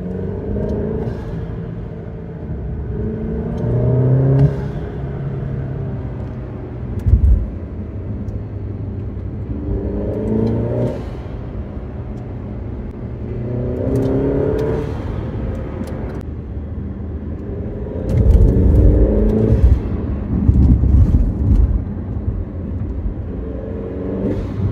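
A 2.0-litre turbocharged Alfa Romeo Giulia fitted with a BMS intake rumbles steadily at idle, with a few swells and a louder surge near the end, heard alone and close.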